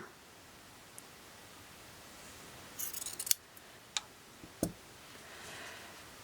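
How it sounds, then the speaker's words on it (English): A few sharp scissor snips cutting through folded fabric for quilt blocks, spaced irregularly against a quiet room background. "So you can just put your scissors through the folds"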